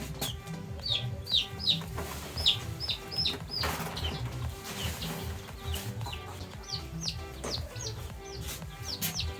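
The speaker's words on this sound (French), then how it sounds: "Je suis en train de stresser les poussins." Day-old goliath or local chicks chirping in short high peeps while being handled and stressed during sexing, with soft handling noises and a steady hum under them.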